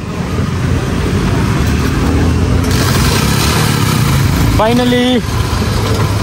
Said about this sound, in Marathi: इकडे काहीतरी जुगाड करून गाडी चालू करतो आता